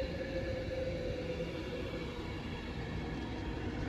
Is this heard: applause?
no